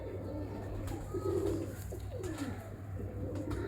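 A pigeon coos close by in a home loft, several soft throaty rolling coos in a row over a quiet low hum, with no talking.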